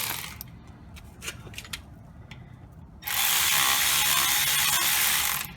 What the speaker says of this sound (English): let's get the cordless ratchet